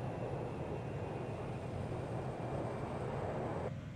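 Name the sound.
Concorde airplane flying over in the video game Transport Fever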